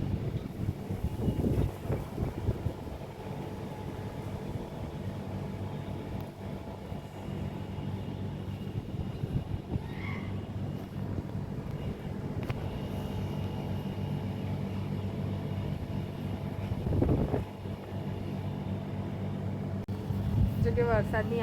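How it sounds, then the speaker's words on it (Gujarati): A strong, cold wind blowing dust gusts across an open outdoor spot, buffeting the microphone with low roaring rumbles that swell and ease, while people talk under it. "જોરદાર પવન આવ્યો છે. બધું ઉડાઉડ થયું છે ધૂળ ધૂળ"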